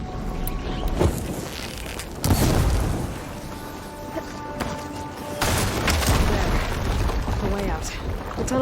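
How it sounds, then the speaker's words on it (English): Video game fire ammo striking blaze barrels, setting off deep booming explosions with long rumbling tails, a couple of heavy blasts standing out over a dense, roaring battle din. "Hitting those blaze barrels with fire ammo should do the trick."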